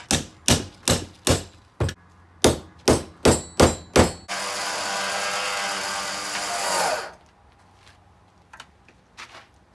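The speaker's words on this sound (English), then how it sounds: "hammer these in real quick." Hammering metal rivets into a Factor 55 UltraHook rope guard on a table: about a dozen sharp, loud, evenly paced hammer strikes, then a few seconds of steady noise and some faint light taps.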